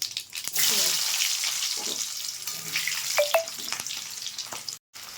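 Onions fry in oil with black cumin for a Bengali fish curry, with a loud, bright sizzle early on that thins out, then scattered clinks and stirring knocks and a brief dropout near the end.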